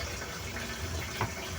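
Water draining slowly from a Eureka washing machine with a drainage fault, a faint, steady trickling flow heard alone.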